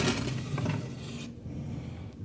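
Smokeless fuel nuggets shifting and rasping as they are loaded into a fire grate, a close, dry scraping rustle that fades to quiet after about a second.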